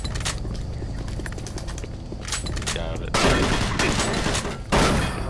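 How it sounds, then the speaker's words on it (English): Shotgun blasts in the video game Doom 3, with two loud broadband bursts that ring out after a stretch of quieter gameplay noise and clatter, no talking. "It's actually kind of quiet for a shotgun."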